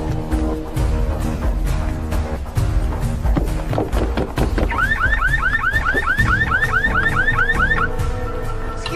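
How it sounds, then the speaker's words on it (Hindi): Car alarm on a green Volkswagen blaring loud and close, cycling through repeated chirping and warbling tones in quick rhythmic patterns over a steady background hum, with no voices. "वो गाड़ी का अलार्म बज रहा है।"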